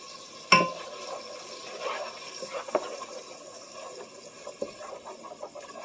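Onions and garlic cook gently over low heat in a pan, giving a soft, quiet sizzle with occasional stirring clinks and scrapes from a spoon.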